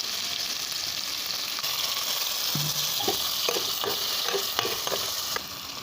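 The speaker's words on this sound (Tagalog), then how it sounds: "Golden brown na ang ating chicken. So lalagyan na natin ng toyo." Browned chicken sizzles and fries steadily in a pan as soy sauce goes in for adobong sitaw, a constant loud hiss broken by a few sharp clicks and spatters, with no voices.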